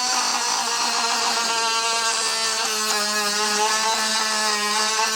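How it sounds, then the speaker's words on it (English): Dremel rotary tool with a polishing bit working on a rusty joystick from an Atari Dig Dug arcade machine, a close high-pitched whine with steady harmonic tones that waver slightly as the bit presses and grinds, continuous throughout. "got a polishing bit on the Dremel"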